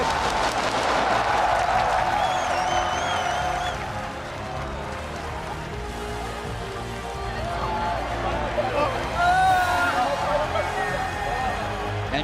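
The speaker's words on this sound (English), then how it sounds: "the crowd's giving a standing ovation after that one" A large crowd at a League of Legends World Championship win applauds loudly in a sustained roar, giving a standing ovation, with cheering and a few whistles rising above the clapping.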